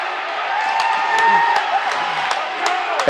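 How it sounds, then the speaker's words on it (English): Home crowd at a college basketball game between EMCC and Shelton State, a steady roar of cheering and whoops filling the gym with a few sharp shouts, loud and continuous throughout. "the home crowd is loving it"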